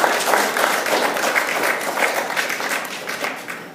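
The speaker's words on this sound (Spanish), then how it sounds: "Démosle palmas al Rey." A Spanish-speaking church congregation claps in a service, a loud, dense and sustained burst of many hands with fast irregular slaps, fading slightly toward the end.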